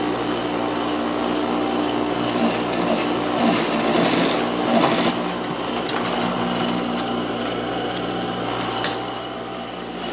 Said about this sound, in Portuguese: Agora eu vou passar a costura de pesponto rente, rebatendo essa sobra do tecido para o lado aqui do forro.